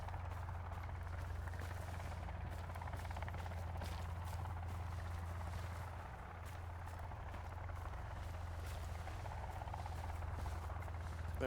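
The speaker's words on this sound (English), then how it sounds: "From where am I hearing the helicopter?" A helicopter in the video game Sons of the Forest flies nearby, its steady low rotor thrum droning continuously at a faint, distant level with no talk over it.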